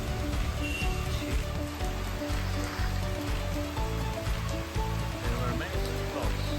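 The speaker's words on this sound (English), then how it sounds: "Look at the rain." Rain falling steadily on a rainy road in Bangalore, a dense continuous patter with a low rumbling undertone, close and alone without talk.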